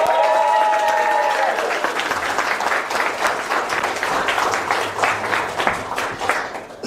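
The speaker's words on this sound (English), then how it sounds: "Give Howard a big round of applause." An audience breaks into sustained applause at a Chester Properties TALK2U talk featuring Datuk Eric Chong, with dense clapping filling the room throughout and a voice briefly audible at the start.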